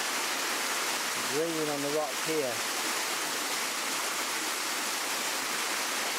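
A waterfall on the Three Waterfalls Walk at Kapiti, New Zealand, pours in a steady, loud broadband rush that runs the whole time, while someone talks briefly over it near the start.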